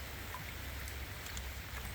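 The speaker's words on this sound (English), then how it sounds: "The rain is still absolutely chucking it down." Heavy rain pours steadily beside the River Clyde in winter, a faint, even hiss of drops with a low rumble underneath and no voices.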